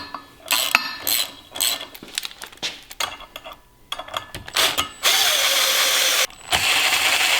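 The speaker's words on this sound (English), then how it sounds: "I'll start them with the ratchet just to get them going" Ratchet starting bolts on a Ski-Doo Gen 5 turbo snowmobile clutch, with quick bursts of close metallic clicking followed by a steady whirring spin near the end.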